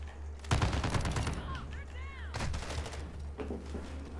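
An LMG firing incendiary rounds in Modern Warfare 2 cracks out in short, rapid automatic bursts with ringing tails and whistling effects between them, loud and close against a low game hum.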